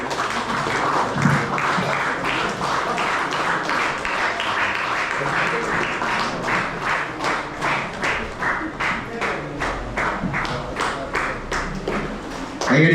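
An audience at a Kochi gathering breaks into sustained applause, a dense, loud wash of clapping that runs throughout, thinning toward the end into more distinct, rhythmic claps.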